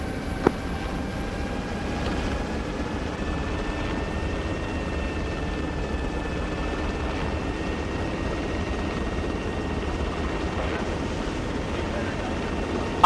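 A military aircraft in the Arma video game drones steadily as it takes off, a constant loud engine roar with a faint whine riding on top, unbroken throughout.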